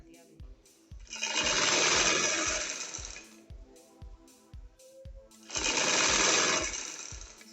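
A sewing machine stitches the hem of an angrakha shirt in two loud bursts of fast rhythmic whirring, with steady mechanical ticking continuing between and around the runs.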